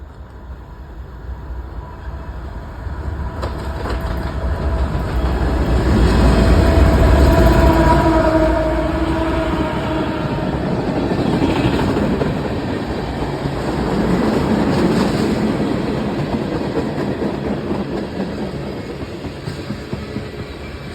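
A CSX manifest freight train with several engines rolls past Iona Island, making a loud steady rumble of wheels and cars that swells and eases over about twenty seconds, with faint high squeals above it.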